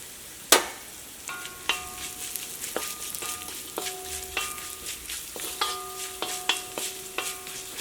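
Whole cumin, both large and small, frying in hot oil with ginger and garlic for a tomato curry: a steady crackling sizzle with repeated metallic scrapes and taps of a spoon against the pan, close and clear.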